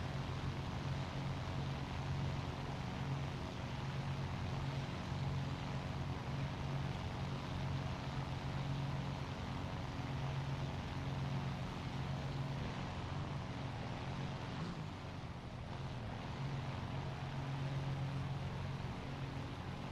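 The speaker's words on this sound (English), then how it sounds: "Is that Dora's engine I hear?" A Dora fighter's aircraft engine in War Thunder drones steadily and loudly throughout, a constant low propeller roar with a slight dip in intensity toward the end.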